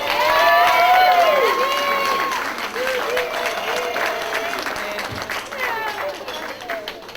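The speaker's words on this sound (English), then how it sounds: "So let's give them a big round of applause." Crowd applause at a wedding reception in a banquet hall that starts loud and gradually fades, with cheers and whoops rising over the clapping.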